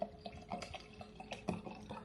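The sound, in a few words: pouring water to dilute Gatorade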